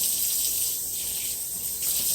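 Hot water runs from a kitchen tap into a measuring cup, a steady continuous hiss and splash with no voices.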